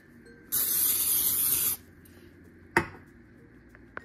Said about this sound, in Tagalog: Bago natin ilagay yung ating mga isda, spread muna natin siya ng ating cooking oil.